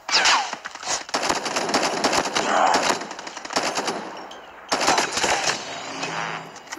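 Video game gunfire from a DRH rifle, rapid bursts of automatic shots in several volleys with short pauses between, loud and close.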